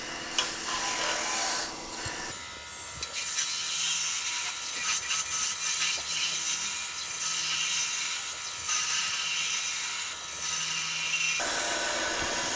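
A sharp skew chisel cuts a spinning wooden blank on a lathe, a steady hissing, scraping cut over the lathe's hum, with a clear change in tone where the cut begins and ends.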